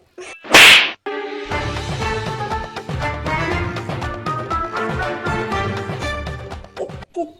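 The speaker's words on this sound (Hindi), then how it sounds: "तुमने मुझे थप्पड़ मारा" A sharp cartoon slap hits once near the start, followed by a bouncy musical sting with plucked notes that runs to the end.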